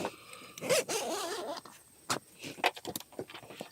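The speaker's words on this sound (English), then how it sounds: "Going to go ahead and unzip." Zipper on the soft shell cover of an Ironman 4x4 rooftop tent being pulled open, heard close up in several quick rasping pulls with brief pauses between them.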